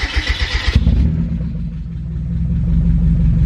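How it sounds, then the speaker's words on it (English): Turbocharged Mazda Miata engine cranking with a rapid rhythmic churn, then catching and settling into a loud, steady, close idle. "first just gonna start it up and we're just gonna send it"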